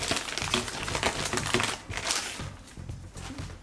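Packaging of an Elecom TK-FBP052BK Bluetooth keyboard being opened, with close, dense crinkling and rustling of wrapping and plastic throughout, loud and unbroken with no voices.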